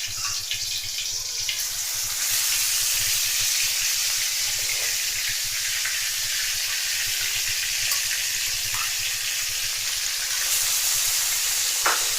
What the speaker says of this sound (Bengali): এখন মাছ ভাজি করব